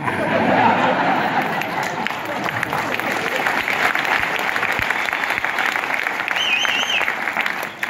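An audience claps through a speech at a motivational business event, steady dense applause with some crowd murmur mixed in, loud and close throughout.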